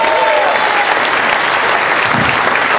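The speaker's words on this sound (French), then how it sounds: "vous pouvez les applaudir" An audience clapping steadily in a studio, dense continuous applause filling the whole stretch at close range with no gaps.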